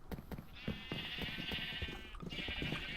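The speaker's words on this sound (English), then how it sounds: "Yes, hello, sheep." A Minecraft sheep bleats in two sustained calls, clear and close, over a busy background of game noises and shuffling clicks.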